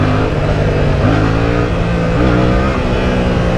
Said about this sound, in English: Let's practice a little baby wheelie real quick.